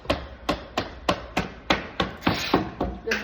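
A hand hammer strikes over and over with a steady rhythm of about two blows per second, each hit a sharp, close, loud knock with a woody ring, and no voices over it.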